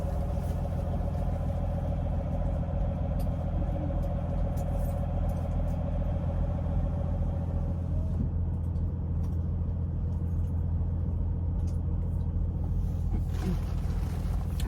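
A car parked close by runs its engine at idle, giving a steady, low, continuous rumble for the whole stretch with no talking over it.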